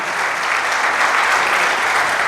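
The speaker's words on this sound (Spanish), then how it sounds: "le den un aplauso fuerte" A church congregation applauding loudly, with dense, continuous clapping that fills the space from start to finish without a break.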